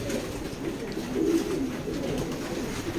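Racing pigeons coo softly at a pigeon loft, low rolling calls repeating close by over a quiet background.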